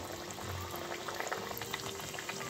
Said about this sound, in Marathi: मीडियम फ्लेमवरती आपल्याला हे जे कटलेट आहे हे छान असे क्रिस्पी आणि मस्त कलर चेंज होईपर्यंत तळून घ्यायचे आहे